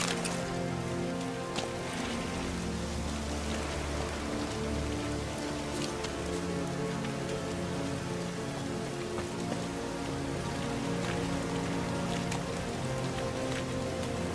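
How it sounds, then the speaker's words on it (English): Steady rain falls on a surface in the video game The Witcher 3, a dense even patter with scattered drops, continuous and moderately quiet with no voices. "Looks like rain."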